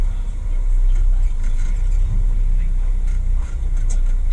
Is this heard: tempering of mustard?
no